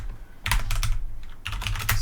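Someone typing code on a computer keyboard, with rapid close-up key clicks in two quick clusters and a brief lull between them.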